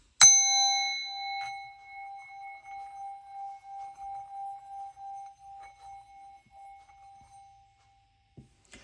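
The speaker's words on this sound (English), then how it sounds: "Watch your ears. Here comes the bell." A single bell is struck once during a spiritual prayer, ringing out clearly with a pure tone that pulses gently as it slowly fades to silence.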